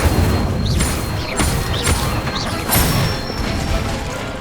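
Incendio fire spells striking a training dummy in Hogwarts Legacy, a series of loud crackling blasts and impacts repeating about every second, close and forceful with no talk.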